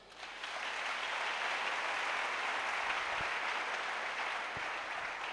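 A congregation breaks into sustained applause, a dense even wash of clapping that swells quickly and holds steady, heard alone without talk.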